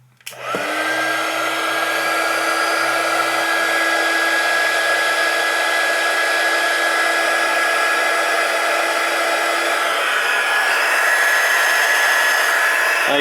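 A heat gun starts with a click and blows steadily, a loud constant whirring rush with a high whine, aimed at a Bakelite block capacitor from a Philco radio, with no talk.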